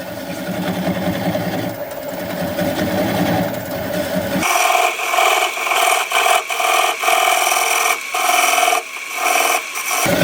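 Turning a large maple burl bowl on a wood lathe slowed to about 300 RPM, a gouge scrapes and rasps loudly and continuously against the spinning wood, the tone shifting midway to a harsher, pulsing cut.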